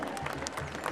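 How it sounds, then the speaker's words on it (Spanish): Crowd applause at a jaripeo rodeo in San Jerónimo, Michoacán: a dense, steady wash of many hands clapping that fills the whole moment, with murmuring voices blended in. "Regálemele fuerte ese aplauso,"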